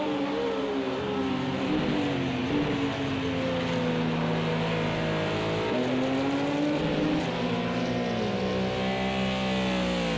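Race cars, an Audi and a McLaren, engines droning and shifting pitch continuously at Monza in a six-hour endurance sim race, steady loud whine from start to finish with no voices.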